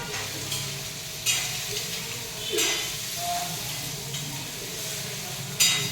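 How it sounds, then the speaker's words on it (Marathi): Masala fries and sizzles in hot oil in a kadhai, a steady close crackling hiss broken by a few louder stirring scrapes and clinks. "तेल छान गरम झालेलं आहे, त्याच्यामध्ये मी मसाला पोळून घेते"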